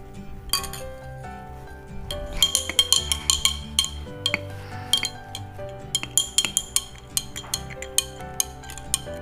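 A spoon stirs rose milk in a glass, rapid bright clinks against the glass in quick uneven bursts over a background of soft music, with no talking.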